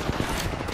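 Rapid automatic gunfire in Apex Legends fills a brief burst, dense and loud with quick repeated cracks and no pause.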